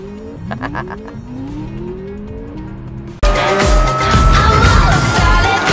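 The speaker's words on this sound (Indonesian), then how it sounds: "punya fitur suara artifisial mesin ketika pedal gas diinjak" An artificial sports car engine sound, played when the accelerator is pressed, sweeps upward as if revving, then abruptly shifts into a loud, dense roar like a sports car accelerating hard.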